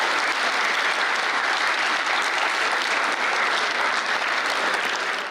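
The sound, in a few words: audience applauding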